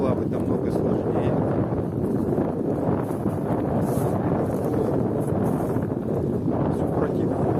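Gusty wind sweeps across a lake shore near Kachkanar, a constant heavy roar and rumble pressing on the microphone, loud and unbroken throughout.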